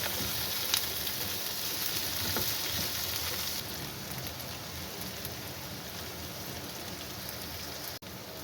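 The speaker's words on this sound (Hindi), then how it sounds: "अब इसको हम लोग हल्का सा सोते कर लेंगे।" Tomato, garlic cloves and a piece of ginger sizzle steadily as they are lightly sautéed in a pan, a dense, continuous frying hiss with occasional pops, close and alone.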